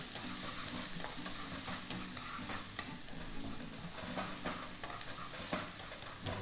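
Shallots, garlic, lemongrass and a little chili frying in a pan over a wood-fired stove, a steady close sizzle with repeated stirring scrapes throughout, no talk.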